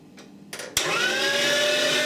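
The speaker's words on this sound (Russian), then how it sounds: "Теперь мы включаем мясорубку" A Panasonic electric meat grinder mincing garlic, onion and bread: a few soft clicks, then the motor starts abruptly and runs with a loud, steady, close whine to the end. No voices.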